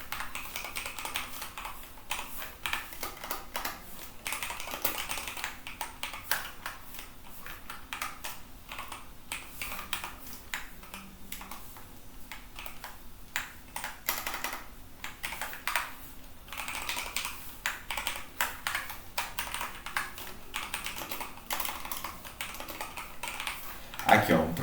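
Code is typed on a computer keyboard in a steady, continuous patter of soft key clicks, close and fairly quiet, lasting throughout with a faint background hum.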